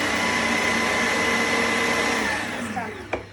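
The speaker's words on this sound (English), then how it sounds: "just give it one more little whiz to make sure it's all in there." Food processor whizzing cream cheese frosting, a loud, steady whirring motor drone that runs for a few seconds, then winds down, ending with a short clunk.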